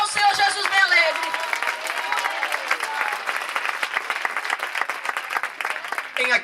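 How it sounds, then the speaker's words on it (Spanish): Church congregation clapping along to worship, loud continuous rhythmic applause filling the space while a preacher talks over it. "palmas para o Senhor Jesus bem alegre"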